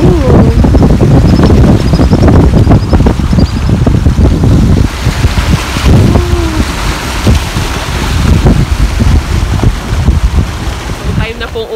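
Strong wind buffets the microphone in loud, gusty rumbles, with murmuring voices and faint thumps underneath.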